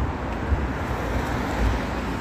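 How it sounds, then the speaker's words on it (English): Steady street traffic noise in a town centre, a constant broadband roar of passing road vehicles with low rumbles, no voices over it. "Don't forget the noise of the traffic."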